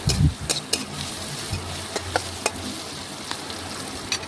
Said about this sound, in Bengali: পেঁয়াজটা এখন নাড়াচাড়া করে বেশ কিছুক্ষণ সময় নিয়ে একটু লাল লাল করে ভেজে নিচ্ছি